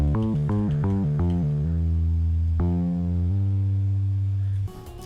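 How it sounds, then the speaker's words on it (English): A 'You Pop My World' synth bass with glide plays a short line of repeated low notes that slide between pitches, then settles on one long sustained note before cutting off abruptly near the end. Loud, harmonically rich and unaccompanied. "Next instrument is this bass, which is a You Pop My World bass."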